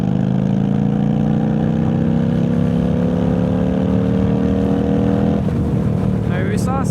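An Indian Chief motorcycle engine revs hard and pulls up through the gears, a loud steady drone with rising harmonics that drops off near the end.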